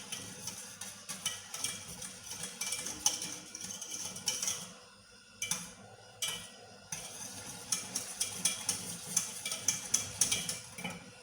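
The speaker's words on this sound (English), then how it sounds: "You need to keep stirring till it forms a smooth custard mixture" A spoon stirring custard mixture in a pot, with steady scraping and light clinks repeating in a loose rhythm, close and fairly quiet, pausing briefly midway before continuing.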